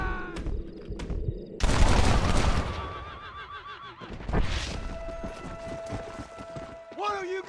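A gunfight breaks out in Red Dead Redemption: a loud burst of shots, then a second volley a few seconds later, mixed with a horse's whinnies and hoofbeats, with brief voices heard in between.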